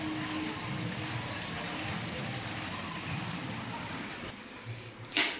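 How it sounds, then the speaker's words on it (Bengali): Steady daytime rain falls without a break, a dense even hiss close by, ending with a short sharp knock. "আজ সারাদিন বৃষ্টি পড়ছে, এই কিছুক্ষণ আগে এই দেখো বৃষ্টি পড়ছে।"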